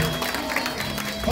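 Guests at a wedding reception clapping in a steady, dense burst of applause that fills the room throughout, with no pauses.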